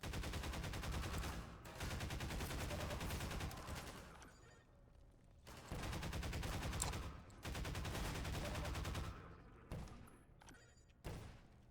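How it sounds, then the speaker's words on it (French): Automatic gunfire in the video game Half-Life 2, rapid bursts of shots in several long volleys separated by short pauses, loud and close with no clear talk. "Qui me tire?"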